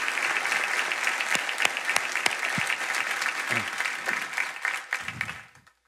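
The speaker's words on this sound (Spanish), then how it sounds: "creo que merecen un aplauso enorme" A live talk-show studio audience applauds loudly, sharp claps and a few faint voices standing out from the wash before the clapping tapers off and stops.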